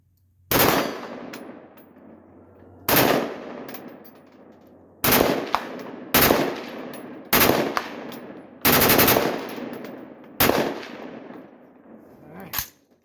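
A machine gun fires outdoors in Mexico in seven loud, separate bursts a second or two apart, each a rapid rattle with an echoing tail and quiet pauses between.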